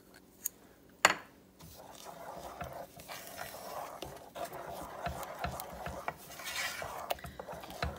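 Peanut butter being stirred into a gluten-free no-bake cookie mixture in a pot, with steady scraping and clinking of a utensil against the pan, one sharp clank early on, continuous and moderately close.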